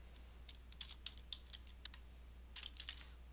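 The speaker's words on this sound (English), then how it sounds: "Type in Brisbane," Typing a search term into a computer keyboard in a quiet room, with a quick run of light, uneven key clicks broken by short pauses over a low steady hum.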